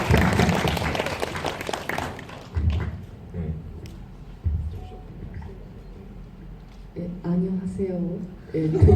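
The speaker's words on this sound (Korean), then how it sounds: "여러분 박수 한번 부탁드립니다" Applause from a film screening audience at a guest event fills the first couple of seconds, then breaks off into a speaking voice with a few murmurs and muffled thumps.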